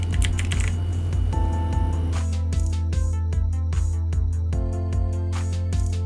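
Rapid clicking of computer keyboard keys typing a chat command in a game, steady close taps in quick runs over constant background music, with no talking.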